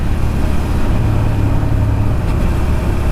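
A 2002 Suzuki SV650 first-generation naked motorcycle cruises at low RPM. Its engine gives a steady, loud, low rumble that fills the whole stretch, mixed with constant road and wind roar, with no voices.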